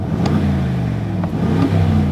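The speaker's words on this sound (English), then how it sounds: "Aston Martin has tuned the exhaust for a very fruity sound, though if you need to be quiet it can be, so this is normal mode" An Aston Martin exhaust idles in normal mode with a steady, close, deep burble and low rumble, restrained but fruity and even throughout, with no voices.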